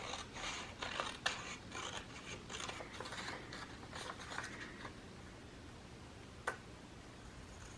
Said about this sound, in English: we're just going to cut a few millimeters off each edge